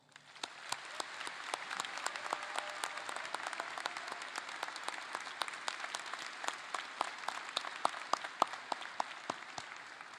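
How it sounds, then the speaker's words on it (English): A crowd at the 2025 Catawba Ridge High School graduation ceremony applauds Dr. Epps. Sharp individual claps stand out within a sustained, moderately distant wash of clapping that continues throughout. "let's give Dr. Epps a round of applause"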